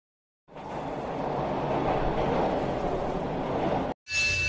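A metro train in the video game Underworld Office rumbles past in a steady, loud broadband roar after a silent start, then cuts off abruptly before a brief burst of another sound.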